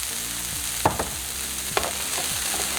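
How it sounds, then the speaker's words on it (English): Vegetables and beans sautéing in a pan give a steady close sizzle, broken by a couple of sharp clinks and scraping stirs of a utensil against the pan. "And saute everything all together."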